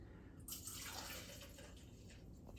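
Purple vodka pours steadily into a measuring cup for a couple of seconds, a soft splashing trickle that rises in strength after a brief quieter start.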